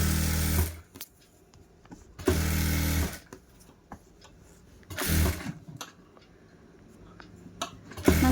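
A sewing machine stitches a lined blouse with a dummy stitch, running in three short bursts separated by quiet pauses, with light clicks and handling of the fabric between runs.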